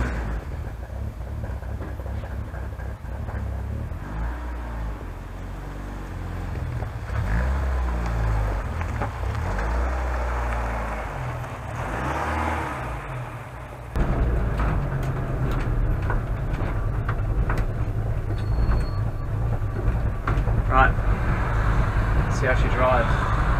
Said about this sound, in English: I'm going to do a quick road test, see if it's any better